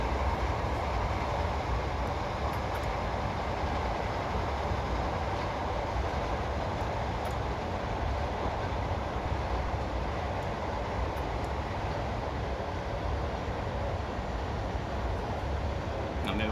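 A Class 90 electric locomotive from Train Simulator runs and brakes in a steady, loud, continuous rumble of wheels and rail noise, with faint high squeal accents and no talking.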